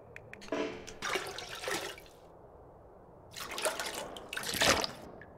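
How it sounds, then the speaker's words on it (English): Water being drawn from a toilet in The Long Dark, two separate bursts of splashing, trickling liquid with a quiet gap between them, close and fairly clear. "I'll take the water from the loo."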